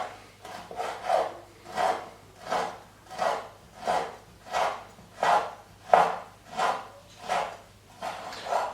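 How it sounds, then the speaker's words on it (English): A knife slides through food on a cutting board in thin, even slices, about a dozen soft rasping strokes in a steady rhythm, close and fairly quiet. "If you see how I use my knife, I don't push down, I let it slide"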